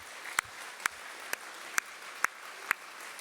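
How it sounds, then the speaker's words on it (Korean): A church congregation claps in unison, six sharp, evenly spaced claps about half a second apart over a quiet hall, with no voices heard. "앞뒤 좌우에 있는 우리 자녀 세대 위해서 박수로 격려하도록 하겠습니다"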